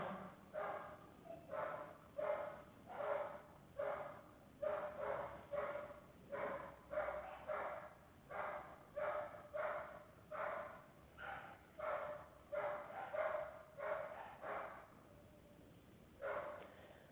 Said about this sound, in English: My dogs have a squirrel in a tree. That's the sound you're hearing behind the recording.